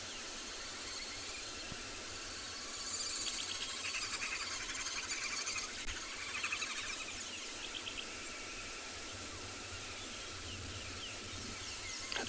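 Birds calling in the South African bush during a morning safari, a dense wash of faint chirps and high trills in the distance over a steady hiss of insects, with no voices.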